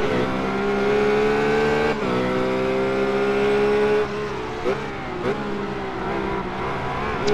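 RUF race car in iRacing at Circuit Gilles Villeneuve, its engine holding a steady, loud tonal whine, then dropping pitch through a lift and several quick shifts in the last few seconds, no one talking.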